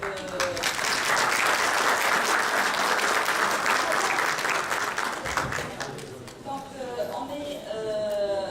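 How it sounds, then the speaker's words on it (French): An audience at an opening ceremony applauds with dense, steady clapping for several seconds before it thins out and a voice begins talking. "j'invite tout le monde à applaudir tous nos intervenants"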